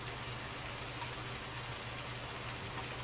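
Steady rain falls in the Farming Simulator 19 video game, an even hiss of rainfall with no pauses and a low hum underneath.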